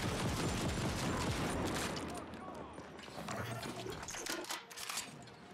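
Rapid bursts of gunfire from the Overwhelmer gun in the video game The Ascent, a dense stream of heavy shots at the start that thins out, with someone talking over the game sounds.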